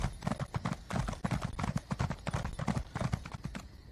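Horse hooves gallop in The Elder Scrolls Online, a fast, even clip-clop that runs close and loud throughout.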